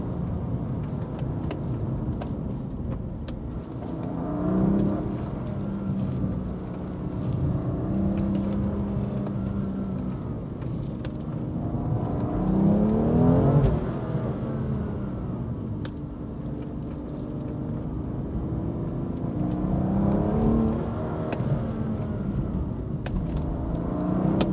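A BMW M2 Competition engine in a racing game droning and revving, swelling up and easing off in repeated waves as the car accelerates and slows on rally roads at night, with no talking.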